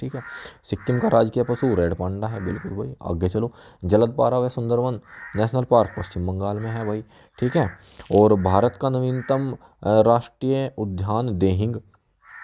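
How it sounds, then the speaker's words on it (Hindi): Repeated crow caws ring out behind a man lecturing continuously indoors, the calls mostly buried beneath his steady speech. "अब ये कौवा बोल रहा है"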